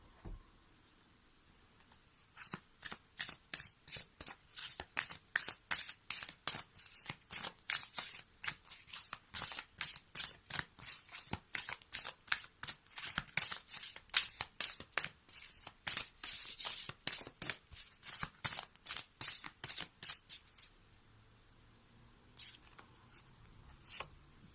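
Water spirits oracle cards being shuffled by hand, a long run of quick, rhythmic riffling bursts close up for about twenty seconds, then a few soft taps as the deck settles.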